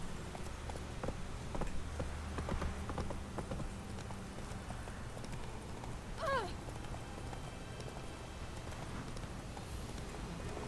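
Horse hooves clip-clop in a steady rapid rhythm in The Witcher 3 video game, a galloping beat set against a constant rain-like hiss, with a brief whinny-like squeal partway through.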